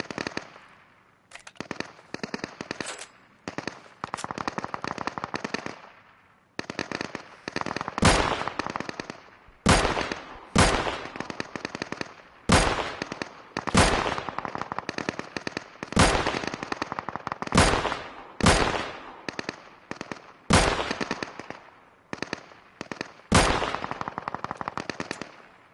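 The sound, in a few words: gunfire from a ghillie suit player in the video game Deadside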